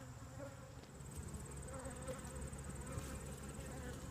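Honey bees buzz steadily around an open hive during frame inspection, a dense, continuous drone close by with no talking over it.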